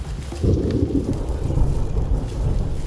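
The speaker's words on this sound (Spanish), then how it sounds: "Con sequía y todo nos pilló un aguacero impresionante con rayos." Heavy tropical downpour in the Amazon rainforest, a dense continuous roar of rain with low rumbling thunder rolling underneath, loud and close throughout.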